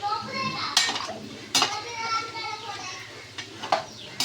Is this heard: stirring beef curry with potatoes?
yes